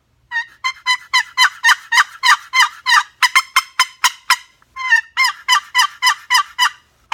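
A chalked turkey box call gobbles and clucks in a fast, steady series of raspy yelps, loud and close, with a short pause midway.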